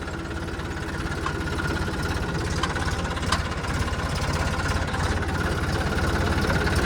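A red Massey tractor engine idles in a steady, close diesel rumble with a faint knocking pulse, running alone and unchanged throughout.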